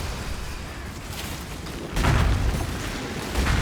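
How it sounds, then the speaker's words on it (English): Detonation in the Path of Exile action game, a deep rumbling boom that swells abruptly over a steady noisy background and rolls on, with a second lower thump near the end. "Detonate and go."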